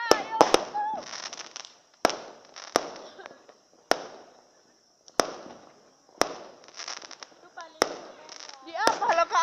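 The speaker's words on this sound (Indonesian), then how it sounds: "Iya, lagi pesta kembang api." Fireworks burst at a New Year celebration, sharp loud bangs every second or two with crackling tails and distant pops, while a crowd chatters and a voice talks over the display.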